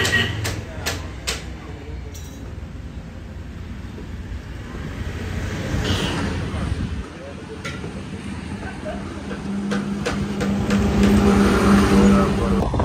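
A car engine hums and revs steadily nearby, with tire and road noise building toward the end; no speech.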